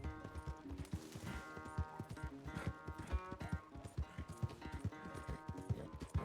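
Horse hooves clip-clop in Red Dead Redemption 2, a steady, fairly quiet rhythmic trot of sharp knocks continuing throughout with soft game ambience.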